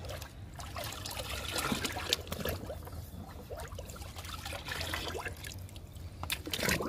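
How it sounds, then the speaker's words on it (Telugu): Papaya liquid and kitchen-waste liquid fertilizer being mixed into water for garden plants, a faint, continuous trickling and sloshing of liquid with no speech. "2 రకాలు కలుపుకుందాము వాటర్లో."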